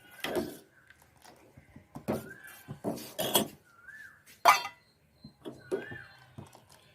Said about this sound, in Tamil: நல்லா கலக்கிட்டே இருக்குங்க.